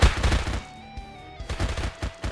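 Rapid bursts of gunfire in the Survivors Will video game, dense shots at the start and again toward the end around a brief quieter gap, loud and close.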